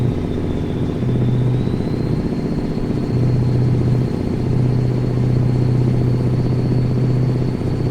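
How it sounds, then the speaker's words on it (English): A heavy truck engine in American Truck Simulator drones steadily with a throaty low rumble, a thin turbo whistle rising and holding above it throughout. "it sounds a little bit more throaty, and like I said, the turbo whistle is a little more prominent"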